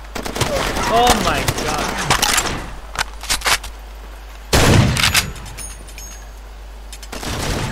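Bursts of machine gun fire in the Far Cry 2 video game, loud rapid volleys with a pause between, while a man exclaims in surprise over them.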